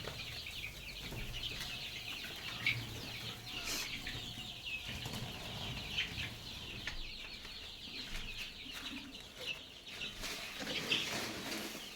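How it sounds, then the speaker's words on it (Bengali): Sonali chickens in a small underground farm make scattered clucks and bursts of wing flapping at close range, a busy, fairly quiet flock without speech. "আন্ডারগ্রাউন্ডের ভেতরে আমার ছোট্ট ফার্ম সোনালি মুরগির।"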